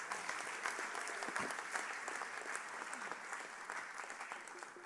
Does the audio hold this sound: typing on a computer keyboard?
no